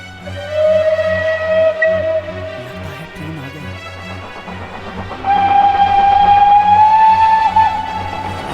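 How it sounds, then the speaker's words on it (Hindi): A train approaching with sustained whistle or horn blasts, a long steady tone, a brief pause, then a louder, rising tone, over a continuous rumbling, rhythmic rail clatter that grows nearer. "लगता है ट्रेन आ रही है।"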